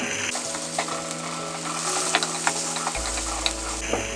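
Shallots and onions fried with cumin and pepper for a South Indian pepper egg curry, a loud steady sizzle with spoon ticks against the pan, close up, no talk.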